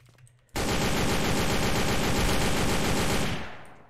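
Sustained rapid automatic gunfire from an AK rifle in a shooting video game, a loud unbroken burst of several seconds that starts abruptly and fades out at the end, with no talking.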